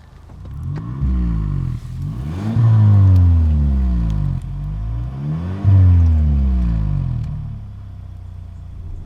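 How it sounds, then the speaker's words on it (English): A 2025 Kia K5 GT starts and runs up close, rising through several loud revs that surge and drop back to a steady idle rumble, with no talk. "Now I'm gonna start the car to show you how the K5 GT sounds."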